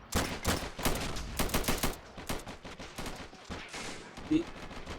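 Gunfire in the Army Men: Plastic Wars video game, dense bursts of rapid shots and crackling volleys throughout, loud and close, with brief gaps between bursts.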